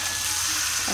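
Potatoes sizzle steadily in hot oil for a spicy meat curry, with a dense, close crackle of frying and a faint stir of the pan near the end.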